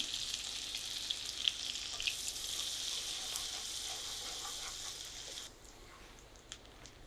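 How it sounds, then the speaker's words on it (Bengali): Chopped onion frying in oil in a pan for an egg and red lentil dal curry, a steady close hiss and sizzle with small pops and stirring clicks, easing off near the end. "ওই তেলেই কিছুটা তেল আমি দিয়ে দিলাম। পেঁয়াজ দিয়ে দিচ্ছি এখন।"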